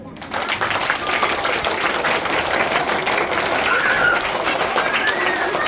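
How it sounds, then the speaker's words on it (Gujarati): An audience at a school annual function gives steady, dense applause that starts abruptly and continues without letup. "કોઈ પણ તમારા માટે જોરદાર તાળી."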